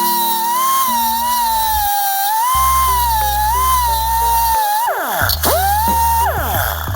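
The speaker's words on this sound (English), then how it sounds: "With these large rivets like this, it's easier just to grind them off." A grinder whines steadily as it grinds the heads off large rivets on a chain. The pitch wavers with the load and grows rougher toward the end, over a constant low background.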